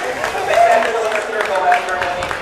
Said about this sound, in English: Big round of applause for our winner.